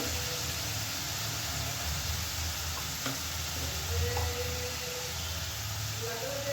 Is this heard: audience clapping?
no